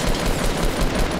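Rapid, dense burst of automatic gunfire in the video game Fortnite, loud and continuous, with no talking.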